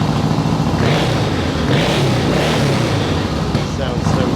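A 1972 Yamaha XS2 650cc parallel-twin motorcycle idling as it warms up, a steady, loud, continuous engine rumble that swells slightly and holds throughout, close by.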